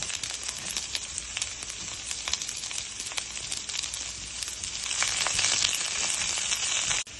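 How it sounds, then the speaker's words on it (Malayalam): Garlic and onion fry with okra in a pan for sambar: a continuous close sizzle with scattered crackles and spits, growing a little louder toward the end before cutting off sharply, with no voices. "ഇപ്പൊ നമ്മൾ ഇനി വെളുത്തുള്ളിയും ഉള്ളിയും കൂടി ഇട്ട് കൊടുക്കാം."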